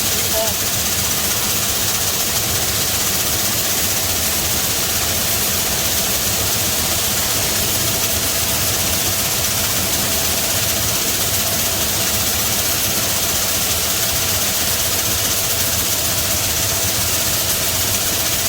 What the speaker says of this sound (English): We just idled the tractor down a little bit here.